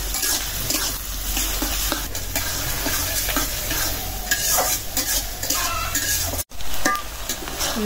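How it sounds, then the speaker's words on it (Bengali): Onions fry and are stirred in a pan with green chilies for a bitter gourd stir-fry, a loud close sizzle with continuous scraping and stirring strokes, a brief silent break near the end. "পেঁয়াজটা আধা ভাজা করে নিলাম।"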